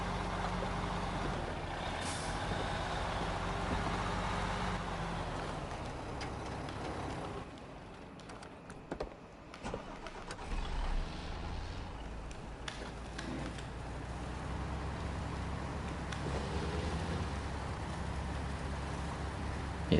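Heavy truck in SnowRunner idling and driving with a steady low engine drone, a sharp air-brake hiss near the middle, and reversing beeps, continuous and close with no talk.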